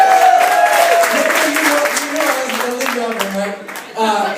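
Audience applause for a state champion girls' track team at a roast: clapping and crowd noise run underneath people talking loudly over it.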